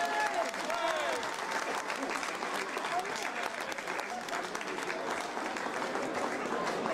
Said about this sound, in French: On peut bien l'applaudir.